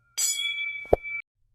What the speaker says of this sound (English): I hear the school bell.